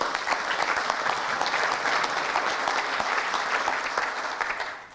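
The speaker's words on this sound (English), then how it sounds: "Let's give the head table a round of applause," Luncheon club audience applauding the head table, a dense, steady round of clapping from a full room that holds for about five seconds before tapering at the end.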